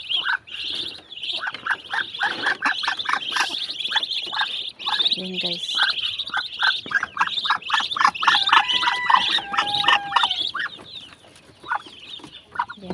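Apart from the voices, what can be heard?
chickens clucking and chicks chirping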